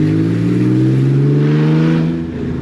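A 6-speed swapped Porsche 964 engine revs hard and pulls, a loud, close, rising tone climbing steadily over a couple of seconds before easing off.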